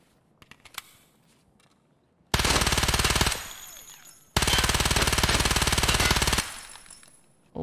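Vector submachine gun fired in the game Escape From Tarkov, two long rapid full-auto bursts of about two seconds each, loud and close, after a few quiet clicks.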